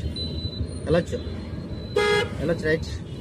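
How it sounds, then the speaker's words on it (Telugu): A car horn toots a few short times amid engine hum at a crossroads during a driving lesson, with a person speaking over the traffic. "హార్న్ వాడండి"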